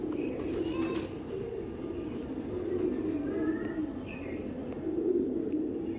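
A Giribaj pigeon cooing nearby, low rolling coos repeating every second or two over a steady background hum, with a few faint chirps in between and no talking.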